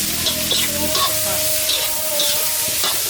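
Shrimp stir-fried with holy basil in a hot pan at a street food stall, a steady close sizzle with scraping stirs of the spatula running throughout.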